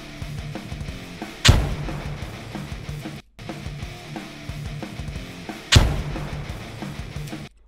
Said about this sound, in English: you can clearly hear the grenade